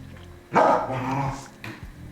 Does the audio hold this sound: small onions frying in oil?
no